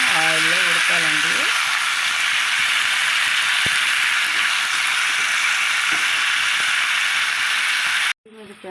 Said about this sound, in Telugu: అదే ప్యాన్లో ఇంకొంచెం ఆయిల్ పోసుకొని ఈ టమాటాలు అనేది దాంట్లో వేసేస్తాం